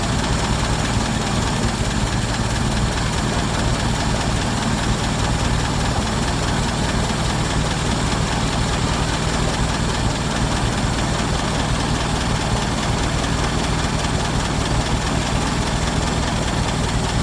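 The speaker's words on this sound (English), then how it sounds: "just let the engine run for 10-20 minutes or so" A Ford Model T engine idles steadily and low with the radiator cap off, an even mechanical chug with no pauses, close and fairly loud.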